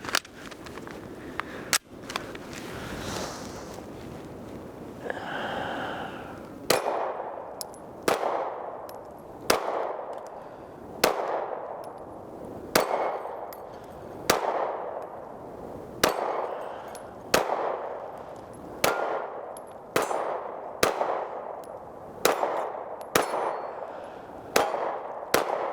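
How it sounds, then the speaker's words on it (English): A Smith & Wesson Equalizer pistol fires with a 15-round magazine outdoors, sharp ringing shots coming one after another at a steady pace of roughly one per second, each trailing off in echo. "So out here I've got my 15 round mag. That's the biggest one that came with my Equalizer. So let's give that a run"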